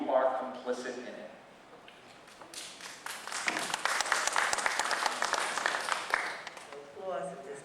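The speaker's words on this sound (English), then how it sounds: "Applause at this time." Audience applause fills a public forum in Plainfield, New Jersey, during a heated school-system debate: a dense, steady burst of many hands clapping, with speech before it starts and again as it fades.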